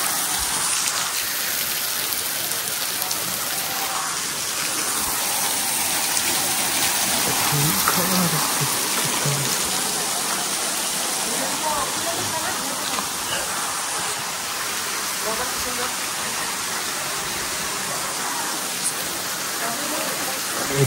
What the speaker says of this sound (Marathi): हा बघा किती खतरनाक धबधबा आहे